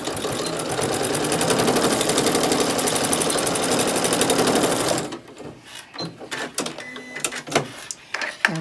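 A sewing machine stitches back and forth on fabric for about five seconds with a rapid, even mechanical rattle, then stops, followed by softer handling clicks and rustles.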